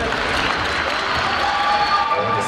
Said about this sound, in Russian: Конечно же, аплодисменты.